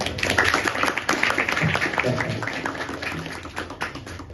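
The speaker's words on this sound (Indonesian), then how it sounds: "Beri tepuk tangan semuanya." Audience applause after a religious Ramadan study talk in a hall, scattered clapping with some taps continuing steadily for several seconds, moderately loud and close.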